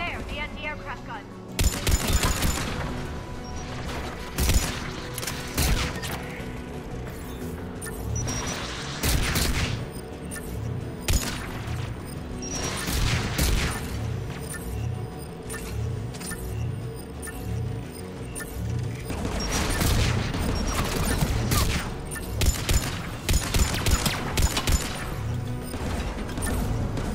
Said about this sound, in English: There, the anti-aircraft gun.